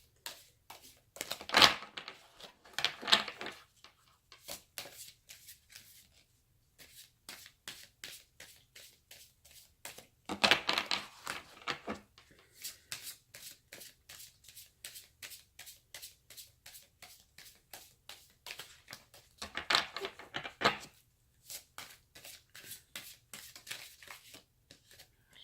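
Sacred Power reading cards are shuffled in repeated bursts of quick, soft riffling flicks, close and fairly quiet, with brief pauses between rounds.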